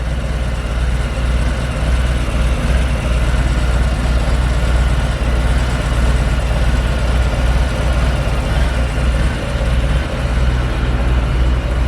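A 2020 Harley-Davidson Softail Heritage Classic 114 on stock pipes runs at a steady idle, a close, continuous low rumble that stays even and unchanging throughout, with no voices.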